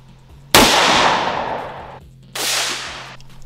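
Two sharp gunshots, one from an FN Five-seven pistol and one from a revolver, each a loud close crack followed by a long decaying echo, about two seconds apart.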